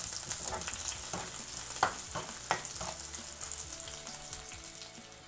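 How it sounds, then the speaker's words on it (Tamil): Green chillies sautéing in hot oil in a pan for a sardine fish curry, a steady close sizzle with a few soft scrapes of a stirring spoon. "இப்போ பச்சை மிளகாவும் கொஞ்சம் லைட்டாக வதங்கட்டும்."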